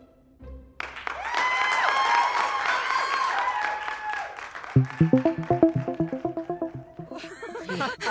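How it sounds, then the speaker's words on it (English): An audience bursts into sustained applause, swelling quickly and then thinning into scattered individual claps that fade out. "That applause was a rush."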